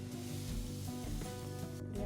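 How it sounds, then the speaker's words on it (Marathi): Water boiling in a pan on a gas stove before sugar goes in for syrup makes a low, steady bubbling hiss with a faint burble and hum throughout. "पाण्याला छान अशी उकळी आलेली आहे"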